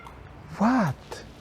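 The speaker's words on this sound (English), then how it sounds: "Okay, the small cat is still here." A small cat gives a single meow with a rising then falling pitch, close by and moderately loud, over faint background noise.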